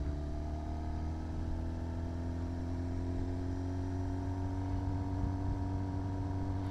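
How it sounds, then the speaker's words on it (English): Road traffic rolls past with a steady low engine drone and tire roar that hold at an even level throughout, with construction on a bridge ahead and no talking. "Must be lunchtime traffic."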